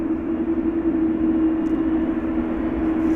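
An airliner pushes back from the gate at Vancouver airport in winter, with a loud, steady engine drone and a constant low hum that hold level and close for the whole stretch, with no talking.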